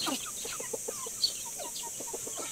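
Soft, rapid clucking from a gamefowl rooster, a string of short repeated calls at moderate distance over a steady background hiss.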